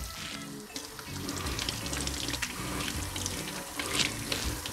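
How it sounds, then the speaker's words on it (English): Ginger being rinsed under a running kitchen tap, a steady close splash of water into a sink that carries on without a break and with no talking. "Wash the ginger."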